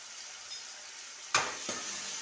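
Ginger garlic paste, about half a spoon, hits hot oil in a pan while cooking dal khichdi, giving a sudden loud sizzle burst followed by a second shorter flare, then a steady soft frying hiss.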